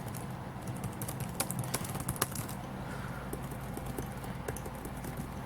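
Rapid, uneven clicking of keys typed on a Lenovo ThinkPad X260 laptop's non-backlit keyboard, close and fairly crisp, continuing steadily without any talking.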